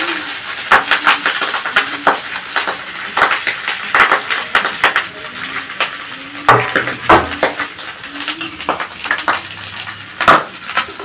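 Cooked rice frying and being stirred in a pan for homemade fried rice, a steady close sizzle and hiss with repeated scraping and clinking of the spatula against the pan, no talking.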